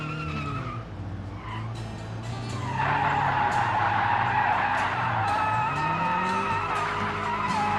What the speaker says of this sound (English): now I've got to do important things like practice handbrake turns